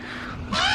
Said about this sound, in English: This appears to be a common raven.